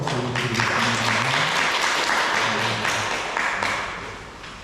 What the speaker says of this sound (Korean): 하나님께 감사와 영광의 박수를 드리겠습니다